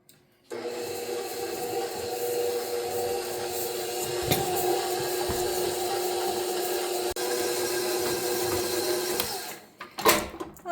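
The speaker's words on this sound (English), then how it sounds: "now we're just gonna mix this all together until it forms into like a nice ball" An electric mixer whirs steadily for about ten seconds while beating no-bake peppermint snowball dough in a home kitchen, with a constant motor hum and a few faint clicks before it stops abruptly.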